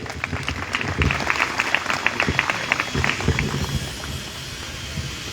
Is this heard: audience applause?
yes